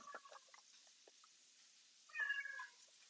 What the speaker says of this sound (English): My cat is getting finicky